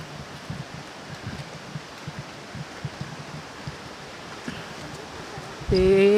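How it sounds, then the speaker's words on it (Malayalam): Water rushes steadily below a forest walking path to Palaruvi waterfall in Kollam, a constant even roar heard from a distance; a voice briefly comes in at the very end. "വെള്ളം ഒഴുകുന്ന സൗണ്ടൊക്കെ കേൾക്കാം"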